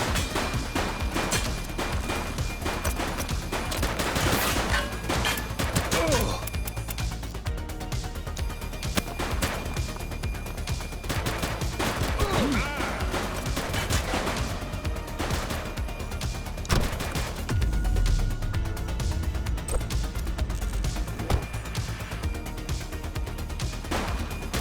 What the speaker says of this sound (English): He's shooting! Shots fired!